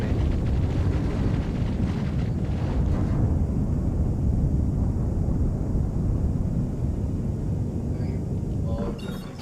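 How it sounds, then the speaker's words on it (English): Sustained loud roar of ship weapons fire and impacts from a Hammerhead gunship pounding against shields in Star Citizen, a dense rumbling barrage running throughout and easing slightly at the end. "Hammerhead keeps on shooting at me"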